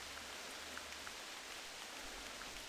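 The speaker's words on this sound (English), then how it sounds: "it's kind of like a mix of back and forth of rain and snow." Continuous hiss of mixed rain and snow falling in the mountains of the hunting game theHunter: Classic, a steady, faint wash with scattered soft drop ticks and no talk.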